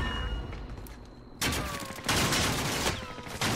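Gunfire in a first-person shooter match, bursts of shots from about 1.4 seconds on, loud and close, with low ambient game noise before them.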